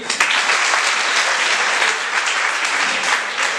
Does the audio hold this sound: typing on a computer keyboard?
no